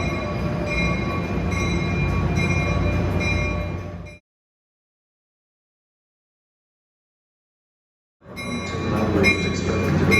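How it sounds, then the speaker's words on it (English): Amtrak train with a cab car rolling through Newark Penn Station, a steady loud rumble of wheels on rails that drops to silence midway and then returns. "here's Amtrak 653 to Harrisburg with one of those lovely cab cars that engineers love to operate in"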